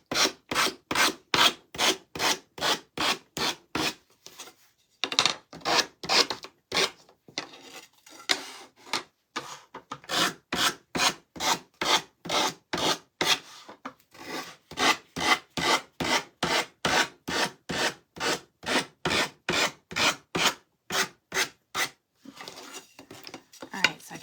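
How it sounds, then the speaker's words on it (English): Sandpaper rubbed back and forth on a piece of wood during a craft project, a steady run of close, even rasping strokes at about two per second, pausing briefly twice before resuming. "It helps when you have a good piece of sandpaper."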